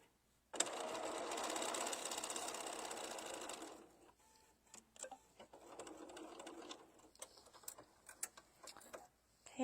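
A sewing machine stitches diagonally across fabric corners for a quilted tabletop banner: a dense, steady motor whir for about three seconds, then scattered clicks and taps as the fabric is handled, with no talking.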